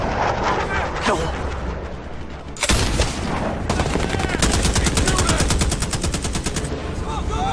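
Heavy automatic gunfire in an action film, a dense rapid stream of shots that grows louder after a sharp blast and continues steadily, with a voice shouting beneath the shooting.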